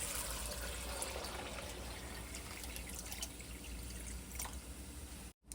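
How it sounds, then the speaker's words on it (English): Water poured into a soup pot of pinto beans, a faint steady trickle and splash that continues for several seconds and cuts off abruptly near the end, with no talk. "Water, add it."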